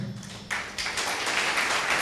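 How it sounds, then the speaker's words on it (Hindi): Audience clapping at a Christian New Year 2024 message gathering, starting about halfway through as a dense, steady patter of many hands that keeps going to the end, with no talking over it. "जिसने भी ताली बजाई है"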